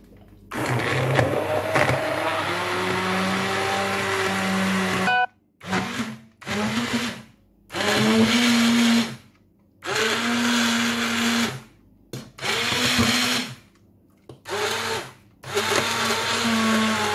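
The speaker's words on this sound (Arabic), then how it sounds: "دابا غنطحنوها ان شاء الله" A blender grinds a vegetable and oat soup, loud and close, running in one long burst and then in a series of short pulses separated by brief silences.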